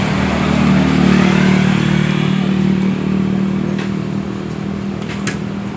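A motorcycle engine idles and revs loudly and close by with a steady low rumble that eases slightly over time, alone without talk, as the bike is pushed and moved.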